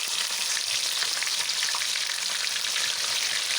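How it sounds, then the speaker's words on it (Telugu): Ginger garlic paste frying in hot oil for homemade chicken pickle produces a dense, even sizzle that holds steady and close for the whole stretch, with no voices. "ఇప్పుడు ఇదే ఆయిల్లో అల్లం వెల్లుల్లి పేస్ట్ వేసుకోవాలి"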